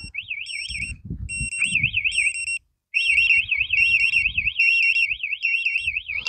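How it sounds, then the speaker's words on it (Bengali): A TASSLOCK bike anti-theft alarm sounds on its remote with a loud, close, warbling electronic siren and beeping pattern, cutting out briefly before resuming, with rustling handling noise underneath. "যদি বাইকে কেউ ধরে চুরির চেষ্টা করলে সাথে সাথে রিমোটে অ্যালার্ম আসবে"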